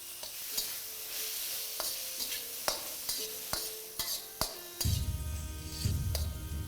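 Chicken is stir-fried in a wok over high flame, with loud sizzling and repeated sharp scraping strokes of a spatula against the pan, then a surge of stronger frying near the end.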